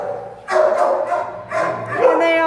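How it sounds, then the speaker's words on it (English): Several shelter dogs at a county animal shelter bark and yip in loud overlapping bursts, with a short pause between volleys and a whining, whimpering tone rising near the end. "These are great dogs."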